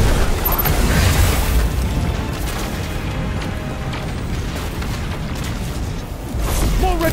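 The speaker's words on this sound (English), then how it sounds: "Missiles!" Incoming missiles in Destiny 2 explode in a loud, rumbling barrage of booms, then sustained roaring noise, with a fresh burst near the end.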